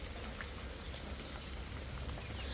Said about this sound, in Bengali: বৃষ্টি ফোড়া পড়তেছে